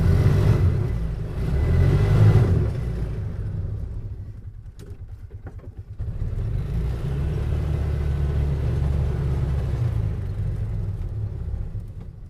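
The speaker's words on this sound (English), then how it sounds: "you'll see the front wheel does spin some if I really gas it" A Polaris Ranger side-by-side engine in 4-wheel drive, rumbling and revving up in a steady drone, dipping briefly midway before surging again and holding a loud, continuous mid-pitched roar.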